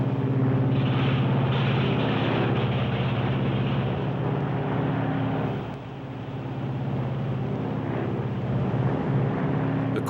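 The propeller engine of a Lockheed Super Constellation airliner runs as it is unfeathered, giving a loud, steady droning roar with a brief dip midway and a close, continuous hum throughout.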